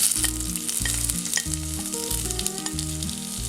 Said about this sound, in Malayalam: ഇനി ഇത് എണ്ണയിൽ നന്നായിട്ടൊന്ന് വഴറ്റണം.